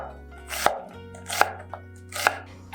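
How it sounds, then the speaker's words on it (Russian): A knife slices an onion into half rings on a cutting board, three distinct crisp chops spaced evenly, close and clear with no talking. "и нарезаю лук полукольцами, можете нарезать четверть кольцами, вот таким вот образом."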